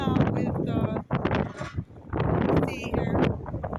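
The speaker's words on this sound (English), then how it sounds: "So it's gotten really windy." Strong wind buffets a microphone outdoors at a construction site where heavy equipment such as a bobcat is working, a low roaring rumble running almost throughout with a brief lull, while someone talks over it.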